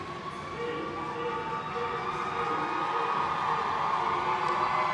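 A roller derby crowd roars steadily and loudly throughout a women's flat track bout at a Toronto tournament arena, a dense, sustained wash of cheering voices that swells slightly toward the end.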